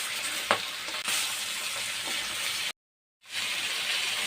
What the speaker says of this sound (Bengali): এই সরপুঁটি মাছগুলো এমন লাল লাল করে ভেজে